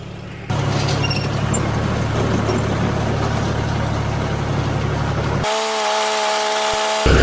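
Hay baler machine starts up and runs with a loud, steady mechanical drone and hum, close by, before cutting to a quieter tonal whine near the end.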